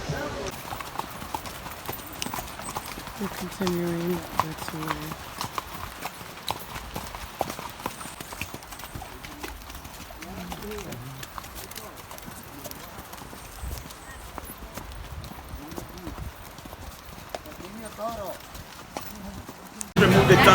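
Horses walking on a guided trail ride in San Juan, Puerto Rico, their hooves clip-clopping in a steady, uneven rhythm throughout, with people talking over the footfalls and a brief whinny near the end.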